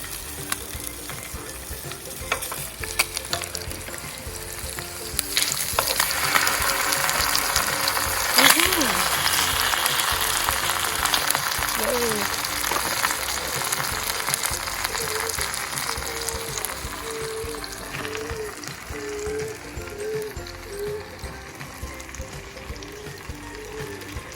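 Slices of Spam and tocino fry in a big pan, producing a loud, continuous sizzle with occasional scraping and stirring clatter, while a voice speaks in the background.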